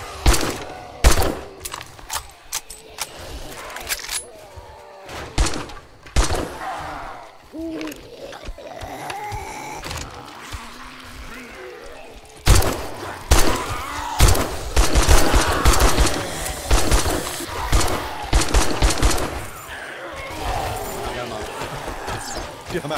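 Gunfire in the zombie survival game 7 Days to Die, with sharp shots and rapid bursts scattered throughout as a horde breaks in, heard over frequent talking from players.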